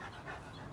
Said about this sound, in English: couple dogs trying to play, trying to get me to play and stuff like that